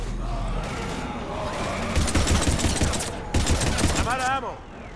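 Gunfire in the video game Mass Effect 3 comes as rapid automatic bursts in two loud stretches. Game voices shout over the shooting, and a sweeping electronic whine closes the clip.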